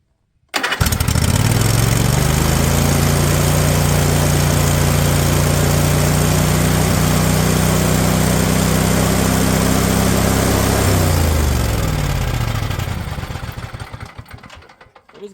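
A Husqvarna engine revving hard and steady, then its pitch dropping as it tries to settle to idle before fading and cutting out, loud and close with no talk.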